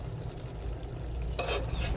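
A spoon stirs pinakbet vegetables in a pan, a soft scraping swirl over a low kitchen hum, growing brighter and louder near the end, with no talk.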